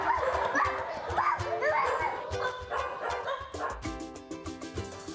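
Puppy at an SPCA shelter, a few short yips and barks mixed in with children's voices and adult talk, then steady tonal background sounds toward the end.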